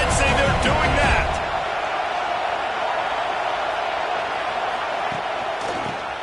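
Stadium crowd at an Ole Miss college football game, a steady, loud roar of cheering that swells briefly at the start and then holds as a broad wash, with an announcer talking over it.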